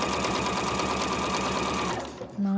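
A sewing machine runs steadily, stitching a seam allowance with a fast, even mechanical whir that stops near the end, followed by a brief hum.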